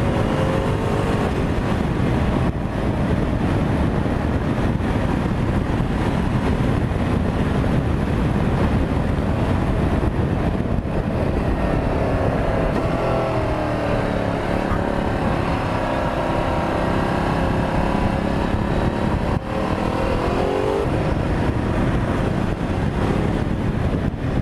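A Ducati Multistrada 1260 S twin-cylinder motorcycle cruises along, its steady engine drone and road roar heard from the rider's position, heavily mixed with constant wind buffeting on the microphone throughout.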